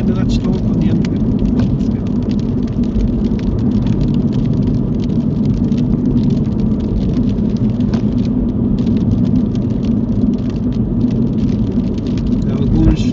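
Rain patters steadily on a car during a driving lesson, a continuous hiss of drops blended with low engine and road rumble that stays even throughout.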